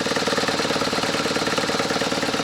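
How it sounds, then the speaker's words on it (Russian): A BMW R1100RT motorcycle engine idles steadily at close range, a continuous even rumble with a rapid regular pulse and no other sounds. "Выхлоп шумноватый. А сам двигатель очень тихий."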